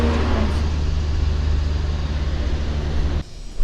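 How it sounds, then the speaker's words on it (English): Loud truck passing just outside, a heavy low rumble of engine and tires filling the room for several seconds before cutting off abruptly. "So sorry about that loud truck"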